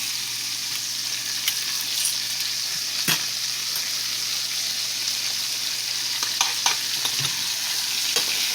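Chicken breast frying in a pan on medium heat gives a steady, bright sizzle throughout, with occasional soft clicks and pops over the continuous hiss.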